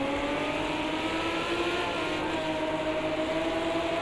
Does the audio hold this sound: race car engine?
yes